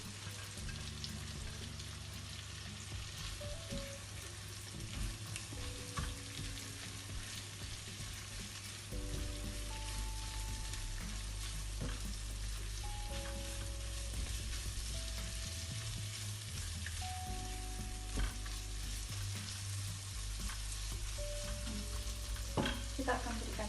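Onion and garlic fry in a pan with a long, even sizzle. Intermittent stirring clinks and scrapes sit close by, and the frying grows slightly louder partway through.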